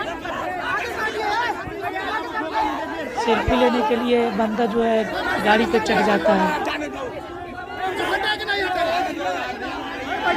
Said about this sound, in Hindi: देख रहे हैं गाड़ी बढ़ भी नहीं रही है, कितने ज़्यादा भीड़ है।